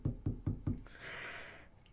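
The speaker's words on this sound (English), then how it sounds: "I heard a knock." In the Roblox horror game Doors, four evenly spaced knocks strike a door, loud and close, followed by a swelling eerie hiss that fades away.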